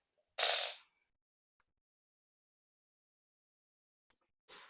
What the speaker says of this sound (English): Now I am going to place these two screws to my plastic lid.